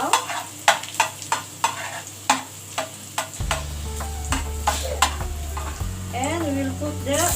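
Garlic sizzling in a hot pan while a utensil stirs and taps against the metal in sharp repeated knocks; a low hum rises partway through and a brief whistling tone appears near the end.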